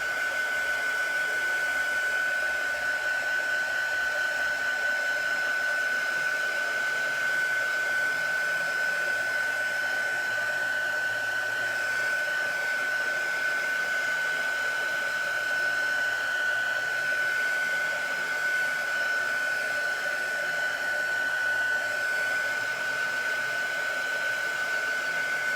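A heat tool blows steadily while drying chalk paste on a patriotic gnome craft, a loud continuous whirring hiss with a constant high whine that runs unbroken from start to end.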